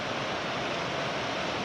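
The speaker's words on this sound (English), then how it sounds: "French Broad River, raging pretty good." The French Broad River near Hot Springs rushes and roars in full flood, a dense, steady wash of churning water heard close up with no pauses.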